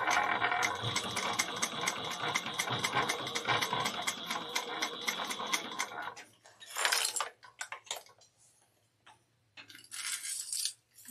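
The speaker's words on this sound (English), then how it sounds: "we're going to top stitch this at 1/8 of an inch." A sewing machine top stitches a bag, a fast steady mechanical whirring and ticking run for about six seconds, then short stop-start bursts with pauses, close and clear, with no talk.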